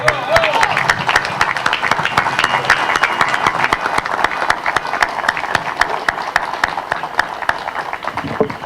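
Sustained applause from an assembled crowd at a commemorative ceremony fills the air, dense steady clapping for a man receiving an award on his son's behalf, with voices mixed in beneath.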